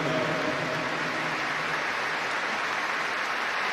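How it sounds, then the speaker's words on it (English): Dense, continuous applause from a large stadium crowd at the Arsenal vs Chelsea FA Cup Final, a broad wash of clapping that holds steady throughout. "Rises with spontaneous applause"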